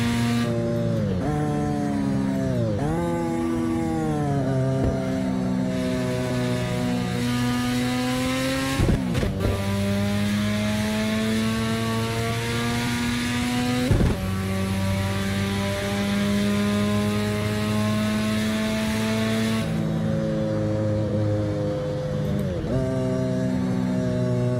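A car engine in the Assetto Corsa racing game revs hard and strains through rising, falling gear pulls, loud and continuous for the whole stretch with sharp shift breaks.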